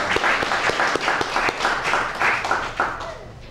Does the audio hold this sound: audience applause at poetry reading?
yes